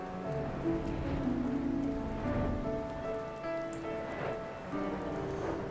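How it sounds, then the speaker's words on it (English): Steady rain falls in the online game Final Fantasy XIV, a soft continuous patter heard alongside sustained tonal game music, with no talking. "This could have been more apt weather, I suppose. Rain's not the best thing to have."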